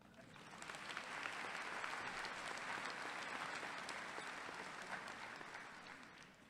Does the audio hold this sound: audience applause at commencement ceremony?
yes